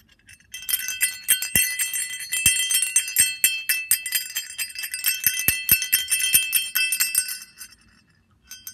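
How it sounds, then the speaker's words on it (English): A small bell rung by hand on Christmas morning, giving bright metallic tinkling and clinking strikes in an irregular run for about six seconds before fading out, close and fairly loud with no talk. "It's a bell. Not just any bell."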